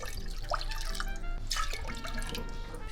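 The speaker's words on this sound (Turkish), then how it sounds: "Üç bardak da aynı bardak ölçüsüyle su ilave edeceğim." Water is poured into a pot holding three glasses of granulated sugar for a syrup, giving a close splashing, trickling flow with small drip accents.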